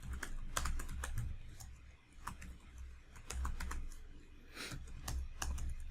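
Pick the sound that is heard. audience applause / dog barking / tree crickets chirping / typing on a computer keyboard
typing on a computer keyboard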